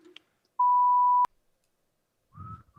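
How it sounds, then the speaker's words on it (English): A timer beeps once as a clear, steady electronic tone lasting just over half a second and ends with a click, followed by near silence and then a short sound. "Sorry, that was a timer going."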